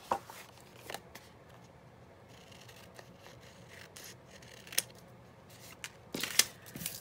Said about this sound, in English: I'm going to cut these journal cards out.